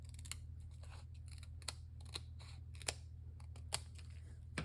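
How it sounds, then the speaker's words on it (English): Scissors snip a strip of paper for a Stampin' Up Meandering Meadow card, giving several short, crisp cuts spaced irregularly over a steady low hum, close and fairly quiet with no talking. "let me cut a strip here."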